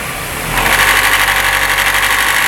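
A Opel Corsa GSI engine with a noise fault runs steadily close by, its tone lifting as the throttle opens slightly and then holding a raised, rough mid-pitched drone.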